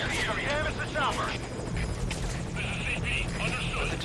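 A military helicopter in the video game Metal Gear Solid V: Ground Zeroes drones steadily throughout under game dialogue and radio voices, with gunfire and other effects breaking through at moments.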